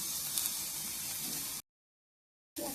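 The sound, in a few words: frying yardlong beans with garlic and green chillies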